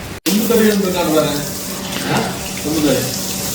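Water running steadily while a van is being washed, a loud, close hiss of flowing water throughout with a brief cut near the start and a voice talking faintly underneath.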